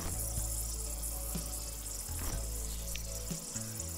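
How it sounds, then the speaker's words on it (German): A water tap runs in the Zoo Simulator video game, giving a steady, soft hiss of flowing water over a low hum, with a few faint clicks. "Reparieren wir den mal. Den Wasserhahn."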